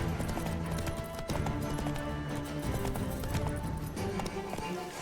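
Roach the horse gallops in The Witcher 3, with steady clip-clop hoofbeats running continuously under a dense mix of game music and ambience.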